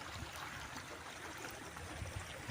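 A small creek flows steadily on a hillside farm lot in Siniloan, Laguna, giving a soft, continuous watery rush with faint trickling, fairly quiet and without talk.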